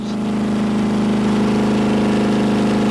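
A car engine running with no oil pan fitted, held at 6,000 RPM, gives a loud, continuous, steady mechanical drone with a strong hum that stays constant from start to finish.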